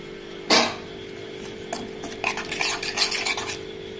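Spoon stirring curd with chili flakes and salt in a bowl, beginning with one sharp clink and followed by repeated soft scraping and tapping strokes, close by with no talking.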